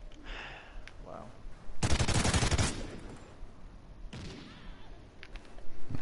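Automatic gunfire rattles in a Call of Duty: Ghosts multiplayer match, a loud sustained burst of rapid shots followed by a shorter burst, with game noise and brief talk between them.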